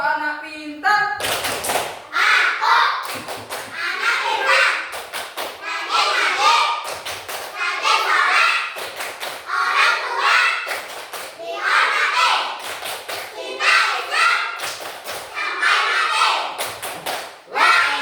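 A first-grade elementary class claps and chants the 'tepuk anak pintar' routine, rhythmic bursts of group clapping and thumps with children's voices chanting along, loud and continuous.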